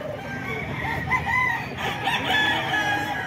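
Kelso line gamecock crowing at a poultry place in Bocaue, a single drawn-out crow close by over a background of other fowl and faint clucking.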